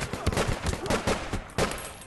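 Pistol gunfire in APB Reloaded, a quick series of punchy, close shots in uneven rhythm, about half a dozen bursts across two seconds with game noise between.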